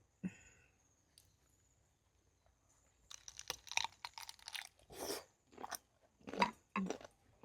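Crunchy dried giant jellyfish dipped in seafood sauce being bitten and chewed close up, with a series of loud, crisp crunches in bursts after a few quiet seconds.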